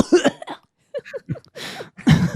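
A person's voice imitates coughing: a few rough, raspy bursts close to the mic, then a quieter, breathy stretch and a final heavy coughing burst.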